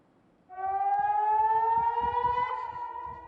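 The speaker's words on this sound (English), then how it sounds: "Air raid sirens blare as rockets soar over the Israeli-occupied Golan Heights." An air raid siren wails over the Israeli-occupied Golan Heights, starting abruptly and holding one loud rising tone that slowly sags in pitch, heard alone with faint low rumbling beneath.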